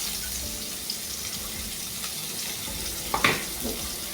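Chopped onion, bay leaf and slit green chili frying in mustard oil in a pan, a steady low sizzle with a couple of brief utensil clinks near the end.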